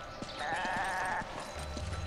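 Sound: sheep bleating in the video game Resident Evil 5

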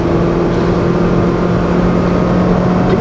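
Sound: Honda car engine revving, missed upshift to third gear

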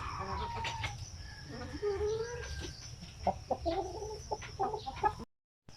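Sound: brooding hen clucking

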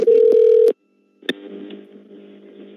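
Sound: telephone redial DTMF dialing tones

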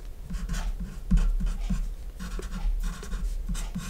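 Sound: writing down a math term

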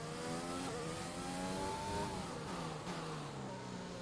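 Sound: race car engine in an F1 racing video game

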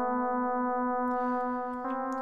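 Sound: FM synthesizer tone with integer ratio, harmonic melodic sound

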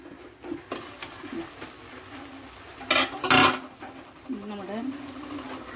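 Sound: opening the lid of the beef cooking pot

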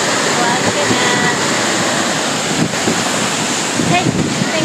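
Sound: Wahkeena Falls waterfall, Columbia River Gorge, Oregon

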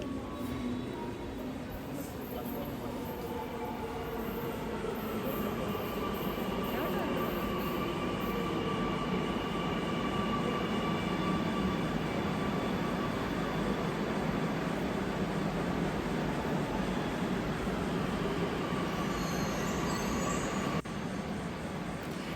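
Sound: metro train arriving at station

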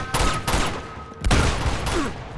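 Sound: gunfire in the video game Uncharted 2

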